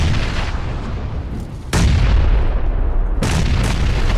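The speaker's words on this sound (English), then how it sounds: "I'm lobbing grenades." Grenade blasts in a video game boom loud and close, two heavy explosions landing over a continuous rumble of battle noise.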